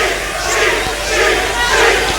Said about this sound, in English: The crowd calling the linesman a cheat